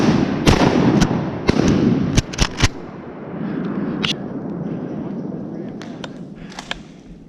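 Shotgun shots fired at ducks on a private-land hunt, several sharp close blasts in quick succession early on, then a few fainter distant shots over rustling background noise.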